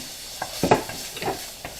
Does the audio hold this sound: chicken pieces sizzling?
yes